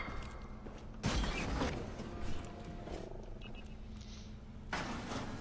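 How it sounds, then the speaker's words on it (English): In a video game, a door unlocking mechanism sounds as a grinding mechanical creak with heavy clunks over low ambient rumble, followed by a quieter hum and then another clunk near the end. "Door unlocked."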